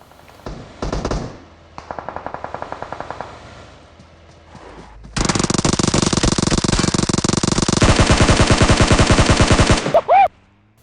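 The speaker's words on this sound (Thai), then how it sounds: "มีเสียงปืนอยู่ด้านหน้านะครับ" Loud bursts of rapid automatic gunfire with a few single shots between, close and aggressive, ending in a sharp ricochet-like ping, in PUBG Mobile.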